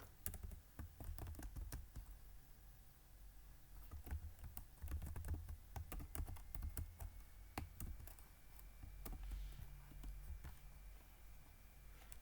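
Typing on a computer keyboard while writing Python code, a fast uneven patter of crisp key clicks, close and fairly quiet, with no talking.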